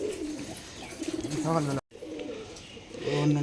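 Giribaz pigeons in a loft give repeated low, throaty coos close by, with a brief silent gap midway and louder cooing resuming toward the end.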